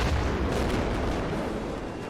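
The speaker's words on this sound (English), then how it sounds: "There's an explosion." Artillery shells burst across a no man's land in the Men of War trench battle game, a dense, rumbling barrage of explosions and gunfire that stays loud and continuous for a couple of seconds.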